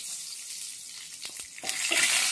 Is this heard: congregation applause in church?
no